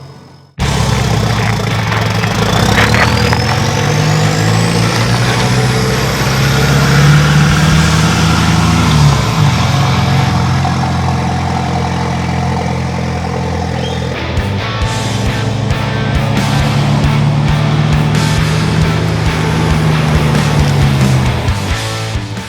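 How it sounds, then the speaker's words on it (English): A car out on a road test drive after a custom winch mount is fitted, its engine droning steadily and loud, with shifts in pitch as it accelerates and eases off over about twenty seconds. "I haven't actually taken the car for a bit of a drive"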